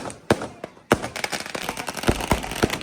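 Diwali fireworks set off outside a Sikh gurdwara in Italy: sharp, close bangs and crackling pops at irregular intervals, with a busy rattle of smaller bursts filling the background.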